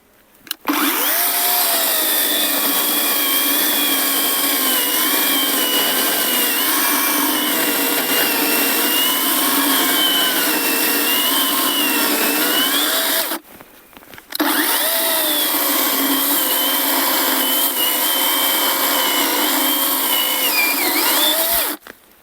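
A Procraft PCA42/2 cordless saw cuts firewood continuously with a loud, buzzing whine, pausing briefly once before cutting again.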